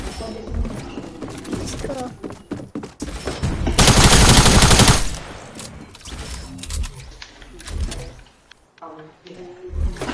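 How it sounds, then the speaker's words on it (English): A drum gun firing in a video game, a dense roar of rapid automatic shots lasting about a second amid scattered gunfire and game noise, with voices talking around it. "Oh, drum gun!"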